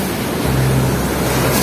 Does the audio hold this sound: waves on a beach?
yes